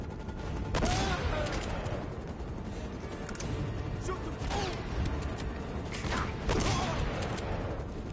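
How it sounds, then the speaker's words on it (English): Gunfire from the video game Uncharted: Drake's Fortune, a dense, steady barrage of shots and impacts with several louder bursts, ongoing at moderate loudness with no talking over it. "Who's shooting?"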